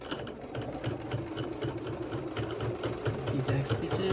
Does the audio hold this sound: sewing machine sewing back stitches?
yes